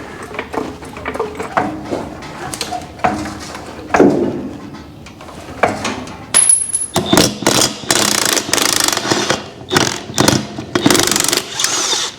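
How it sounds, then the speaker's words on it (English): Metallic clanks, ratcheting and scraping from taking a wheel off a Case IH grain drill, close and in irregular bursts, with a brief high whine partway through. "I'm going to take this wheel off so I can get to that bearing block"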